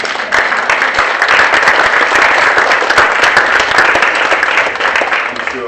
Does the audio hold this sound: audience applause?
yes